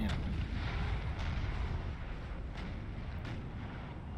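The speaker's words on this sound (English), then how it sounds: "It looks like the artillery of their foes is driving the French back" Napoleon: Total War battlefield artillery, a continuous low rumble of cannon fire with a few distant booms and sharp reports rising out of the dense, steady roar of combat.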